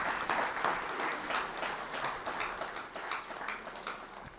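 Audience at a spiritual gathering clapping steadily for about four seconds, a soft, even wash of applause heard from a distance.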